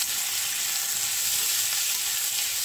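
Sliced onions frying in a little hot oil with two bay leaves for a chicken curry, giving a steady, close, bright sizzle that hisses evenly throughout without pause.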